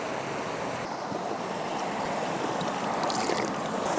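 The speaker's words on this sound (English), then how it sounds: "you can drink from this glacier-fed creek behind me" A glacier-fed creek rushes steadily at Monkey Creek, New Zealand, a broad continuous wash of flowing water heard close and fairly loud, with no voices.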